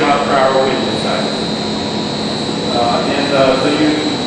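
A lab wind tunnel runs at low speed, about 30 mph, giving a loud, steady rushing roar with a constant whine, while a person speaks over it throughout.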